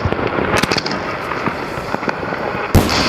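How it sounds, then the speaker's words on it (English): A 20-inch firework canister shell is remote-fired outdoors, giving a burst of sharp crackling pops and then a loud boom near the end, close and alone. "a 20-inch canister shell"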